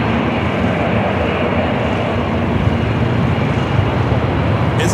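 United Boeing 737 MAX 9 arriving from San Francisco at Los Angeles airport, a loud, continuous jet roar with a faint low hum underneath, steady for the whole stretch and free of speech.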